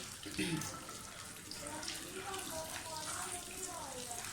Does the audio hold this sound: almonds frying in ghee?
yes